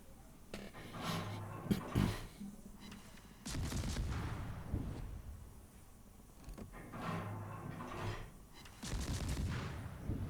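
Naval guns firing in the World of Warships game as a destroyer engages, with several heavy booming salvos and rumbling decays spaced a few seconds apart, moderately loud.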